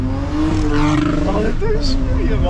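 A car with a loud exhaust roars and growls while driving at night, the rough engine note rising and falling under people talking close by.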